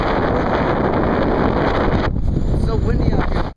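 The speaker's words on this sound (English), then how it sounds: "so windy out here." Heavy wind buffets an outdoor microphone with a loud, steady roar that eases slightly partway through, while a person talks faintly underneath.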